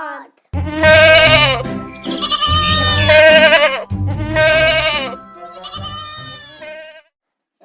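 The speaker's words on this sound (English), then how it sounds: "G for goat." A goat bleats loudly several times in a row, long wavering calls close by with short gaps between them.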